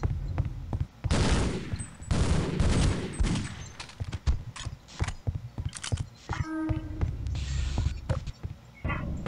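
Gunfire in Half-Life: Field Intensity, a run of loud, sharp shots and short bursts spread unevenly over several seconds, with brief quieter gaps and some echoing tails.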